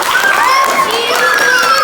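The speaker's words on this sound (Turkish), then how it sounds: "Ya alkışlayın bakın kendinizi." Young players of a youth football squad applaud themselves in a brief, loud burst of clapping, with high shouts and cheering voices ringing over the claps.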